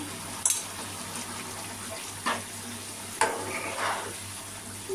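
A spoon stirs a vegetarian chhana bora curry finished with ghee and garam masala, giving a few soft scrapes and bumps in the pot over a low, steady background hum.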